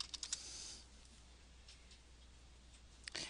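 Typing on a computer keyboard to enter a search term: a few quick, faint key clicks at the start and another short burst near the end, with quiet room tone between.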